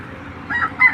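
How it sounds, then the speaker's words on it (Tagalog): Chickens at a garbage dump site in Lingonan, Valenzuela give a brief burst of clucking and crowing calls, fairly close and moderately loud over a low rumbling background. "May mga manok pa rito."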